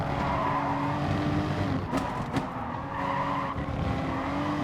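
Race cars in Gran Turismo skid and one spins out during a race, a steady loud engine drone with brief tire-scrub bursts rising over it midway.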